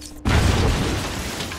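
A video game explosion in Batman: Arkham Asylum bursts with a sudden loud boom, then a rumbling, crackling roar that slowly fades over about a second.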